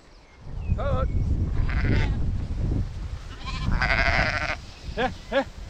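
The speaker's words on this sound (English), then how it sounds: "Now we need sheep." Sheep bleat several times near a farm gate: one wavering call early, then two quick bleats near the end, over constant rumbling outdoor noise, with a voice calling out in between.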